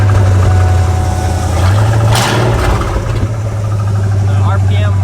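A Ford Ranger with a 5.0 engine idles steadily with a deep, continuous rumble, loud and close, with a brief burst of noise partway through as the motor settles.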